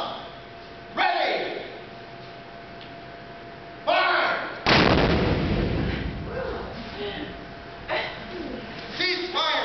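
Muzzle-loading cannon at Fort Jackson fires one sudden, heavy boom that rolls out into a long, loud rumbling decay, with sharper thuds and clatter before and after it and voices around the firing.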